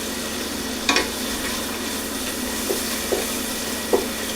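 Ginger, salt and cumin stir-frying in a pan while making butter chicken, a steady soft sizzle with a few brief scraping clicks of stirring, close and without talk.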